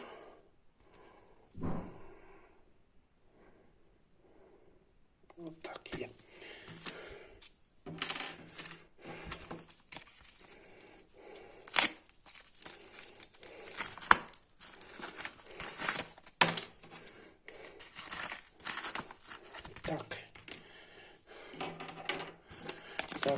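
An AliExpress parcel is opened, with intermittent crinkling, tearing and tapping of packaging close by, starting after a quiet stretch and continuing in irregular bursts.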